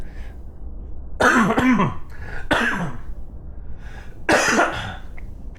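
Several harsh coughs in bursts, a couple clustered together and another after a pause, close and loud over a steady background hiss.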